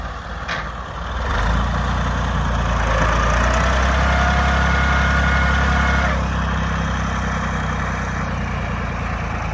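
A well-kept tractor's engine idling nearby, a loud steady low rumble with a faint mechanical vibration that swells after the first second and holds evenly throughout.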